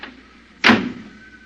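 A car door shuts once in an old-time radio drama, a single close, solid thud with a short trailing rattle after a quiet moment.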